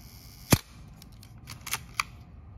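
A Minolta SRT 201 film camera body fires its shutter: one sharp loud click, then several lighter clicks and a final crisp snap, close up and with no voice over them.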